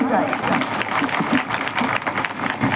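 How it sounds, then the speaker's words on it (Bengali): A crowd at a political rally stage breaking into sustained applause, dense steady clapping filling the whole stretch, with a voice carrying over it. "তাদের জন্য আগে আমিও একটা জোরে হাততালি চাই"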